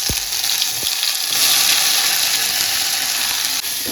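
Cumin and mustard seeds tossed into a hot kadhai, a loud, steady frying sizzle with a few sharp spits and pops near the start, swelling and holding strong to the end.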